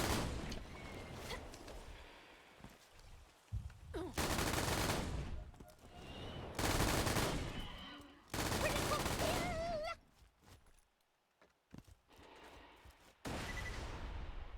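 Bursts of gunfire from the video game Borderlands 2, coming in several loud dense volleys separated by quieter gaps, with players talking over the action.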